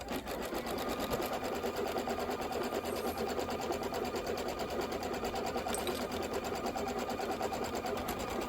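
A sewing machine quilting the inner borders and flange of a Kimberbell Sweet Land of Liberty pillow, its needle clattering in a fast, steady mechanical whir, close and continuous without pause.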